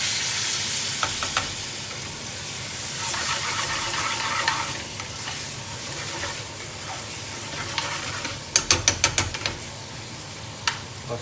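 Chicken tikka in base gravy sizzles steadily in a pan while a spoon stirs and scrapes through it, with a run of sharp, rapid metallic clicks and taps near the end, close and clear with no talking.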